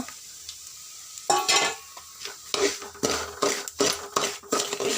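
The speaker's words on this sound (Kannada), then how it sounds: "ಕಡಲೆಬೇಳೆ, ಉದ್ದಿನಬೇಳೆ, ಹಸಿರು ಮೆಣಸಿನ್ಕಾಯಿ ಇಷ್ಟು ಹಾಕಿ ಹುರಿದಿದ್ದ ರವೆ ಹಾಕಿ ಈ ಥರ ಮಿಕ್ಸ್ ಮಾಡ್ತಾಯಿದ್ದೀನಿ" A spoon stirs roasted semolina with chana dal, urad dal and green chili in a pan, giving scraping, clinking strokes in an irregular rhythm with soft sizzling underneath, close and fairly loud.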